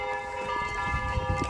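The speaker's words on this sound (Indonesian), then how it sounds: "suara lonceng ya dari gereja Ortodok tadi ya" Orthodox church bells ring from a distance in Tulcea, Romania, their sustained tones hanging over low, rumbling outdoor background noise.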